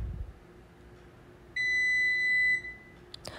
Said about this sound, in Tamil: அதுக்கப்புறம் பீப் சவுண்ட் கிடைக்கும்.